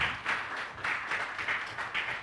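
An audience at a university moot court competition claps, a soft steady patter of many hands with gentle swells, moderately distant and fairly quiet, with no talking over it.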